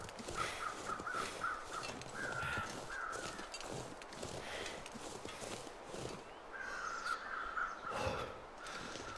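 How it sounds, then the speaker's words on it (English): Crows caw in short repeated bursts in the survival video game The Long Dark, heard at a moderate distance over a dense, steady outdoor wind and ambient rush, with no voices. "I can hear crows, but I can't see them."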